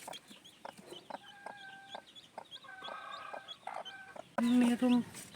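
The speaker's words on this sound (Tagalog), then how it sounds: "Bago pa lang yan napipisa. Ayan, nakababa na ang sisiw." A brooding hen clucks softly alongside newly hatched chicks peeping in high, repeated chirps, close by, as a person speaks briefly over them near the end.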